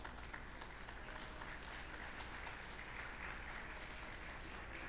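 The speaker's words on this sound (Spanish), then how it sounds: "denle un aplauso grande mientras voy tomando un poquito" A church congregation applauding during a sermon, dense steady clapping from many people filling the space, quiet and continuous for about five seconds without speech.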